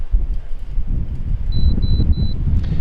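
Steady, loud wind rumble batters a microphone outdoors during a drone flight in gusts of about 40 mph, with a faint repeated electronic beep in the background near the end.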